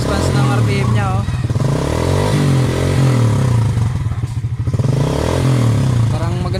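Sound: motorcycle engine idling and revving after repair

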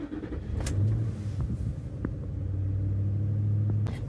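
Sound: V8 pickup truck engine starting and idling

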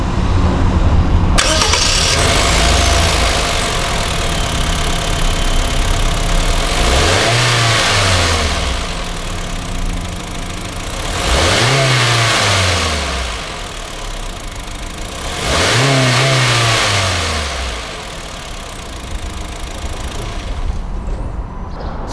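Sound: Honda car engine starting and revving

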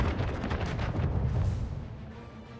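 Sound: ship cannon fire in naval battle, Anno 1800 video game

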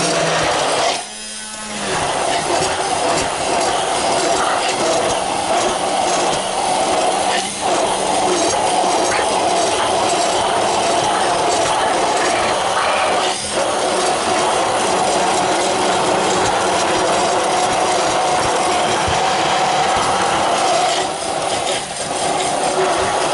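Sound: blender running

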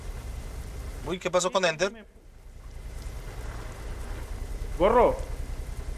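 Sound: rain in American Truck Simulator video game

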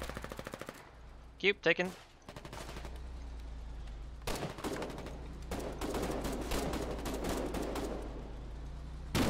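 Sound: gunfire in the video game Foxhole

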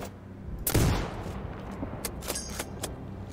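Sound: EMP sniper bullet shots in the video game Sniper Ghost Warrior Contracts 2

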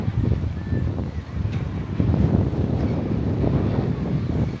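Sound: strong wind at the Tottori sand dunes

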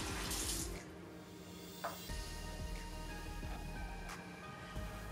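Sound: water running while rinsing face at sink

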